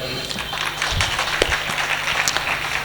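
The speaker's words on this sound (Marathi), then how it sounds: "पुन्हा एकदा टाळ्या होऊन जाऊ द्यात" An audience applauds at a lecture-series event in a hall, a dense, continuous patter of many hands clapping at once.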